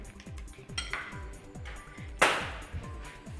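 Sugar and butter being creamed in a bowl for a clafoutis tart, as a steady rhythm of utensil scrapes and knocks against the bowl with occasional clinks, close and moderately loud.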